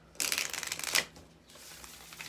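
Tarot cards being shuffled by hand, a dense crisp riffling burst of about a second that ends sharply, followed by a faint, softer shuffle.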